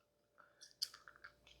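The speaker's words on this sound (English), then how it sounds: "I know it sounds really gross when I'm chewing this" Quiet, close chewing of hard, chewy gum gives a few soft wet clicks and crunchy bites spread over a short moment, all faint and with no talk.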